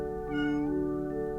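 A white cat gives a single short, clear meow close by, rising then falling, alone without any talk around it.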